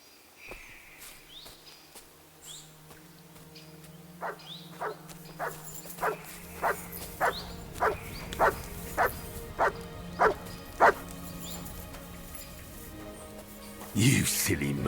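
Dog in Kingdom Come: Deliverance II barking in a steady run of about a dozen sharp, evenly spaced barks, fairly close and clear, with quieter game ambience and a few earlier yips around them.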